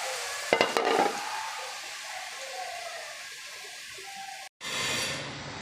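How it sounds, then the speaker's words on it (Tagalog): Sauce poured into a pan of frying pork steak: a sharp splash and burst of sizzle at first, then a steady soft frying hiss that cuts off abruptly near the end before more sizzling resumes. "atin ang ilalagay yung ating sauce"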